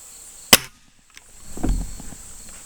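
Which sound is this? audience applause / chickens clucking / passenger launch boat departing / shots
shots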